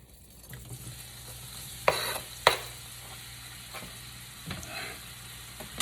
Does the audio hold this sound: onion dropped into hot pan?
yes